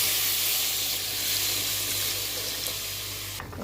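Water poured into a pan of spiced potatoes frying with turmeric and salt, giving a steady broad hiss and sizzle close by throughout, with a brief clatter near the end.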